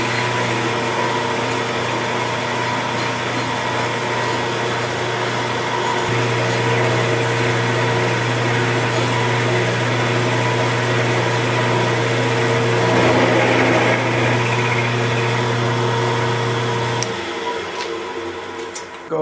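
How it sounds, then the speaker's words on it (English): A milling machine runs steadily while a Niagara cobalt roughing end mill cuts a slot, a constant motor whine with layered tonal hum persisting until it changes pitch and fades near the end. "Using a Niagara cobalt roughing end mill, I'm just going to run it through."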